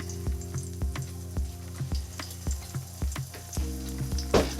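Eggs cook in a pan with a soft continuous sizzle, punctuated by a regular series of light taps or scrapes roughly every half second, close and moderately quiet, with no voices present.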